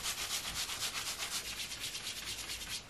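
Crepe fabric of a top is rubbed close up, giving a soft, rhythmic scratchy rustle of quick repeated strokes, faint and alone with no voices.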